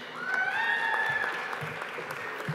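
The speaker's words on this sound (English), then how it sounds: "Don't you all die out with the applause." Moderate applause from a university commencement crowd as graduates are called with distinction, steady clapping beneath a sustained musical or tonal line.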